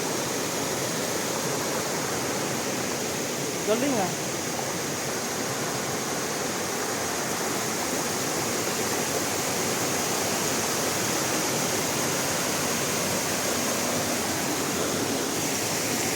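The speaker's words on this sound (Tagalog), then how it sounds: "ngayon na tayo nakakita ng ilog na putol pero ang lakas ng agos" A cut-off river at Paglitaw Resort in Tanay, Rizal, with a strong, rushing current. Its steady roar of water holds for the whole stretch, and a short exclamation from a person breaks in briefly near the start.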